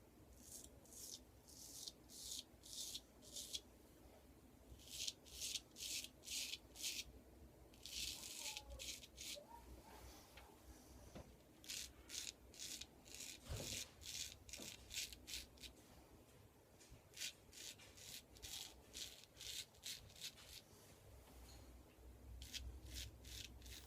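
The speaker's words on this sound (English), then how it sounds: "Definitely shaving hair." A razor scrapes across stubble in short, rhythmic strokes, close and quiet, with brief pauses and a few small knocks between passes.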